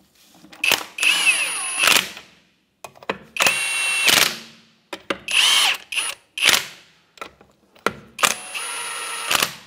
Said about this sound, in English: Now with our 21 millimeter socket, we'll just snug these up.